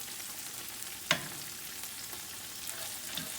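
Garlic Parmesan butter sizzling in a pan, a quiet steady fry with one sharp clink of a utensil near the start and faint stirring afterward.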